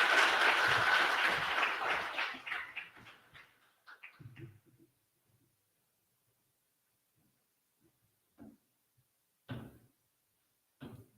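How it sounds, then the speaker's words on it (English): Audience applause at a virtual fan convention main room, a loud burst of clapping that fades out over a few seconds, followed by near silence broken by a few faint knocks and shuffles. "give him a round of applause"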